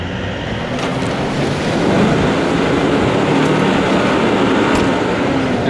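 A Toyota 76 series four-wheel drive crawling off road in second gear low range, a loud steady engine roar with heavy broadband rumble and rattling throughout, close and continuous with no talking.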